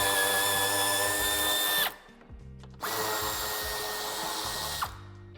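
A power tool, likely a drill or driver, whirs steadily while removing a bumper screw on a 2017 Alfa Romeo Stelvio, stopping for about a second and then running again, close and alone.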